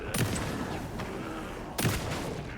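Gunfire in Alan Wake II: two loud bursts of shots, one near the start and another around the two-second mark, with a dense crackling rumble between them and no speech.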